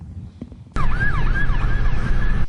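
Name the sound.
police car sirens during a chase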